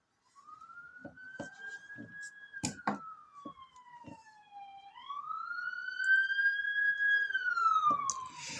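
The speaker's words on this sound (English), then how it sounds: "I do apologize if my microphone did just pick up the ambulance there." An ambulance siren wails past on a main road, a rising and falling tone heard from a moderate distance over scattered clicks and light handling noise, growing louder toward the end.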